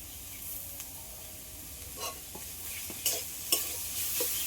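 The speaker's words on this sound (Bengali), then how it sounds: "সব একসাথে এগুলো একটু ভেজে নেবো" Grated potato and pointed gourd seeds frying together in a pan, soft sizzling with intermittent scraping stirs that grow a little louder toward the end.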